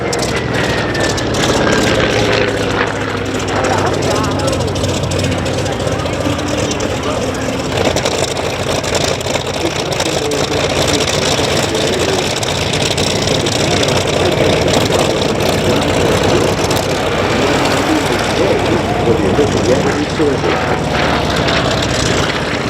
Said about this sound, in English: Here comes the Hellcat.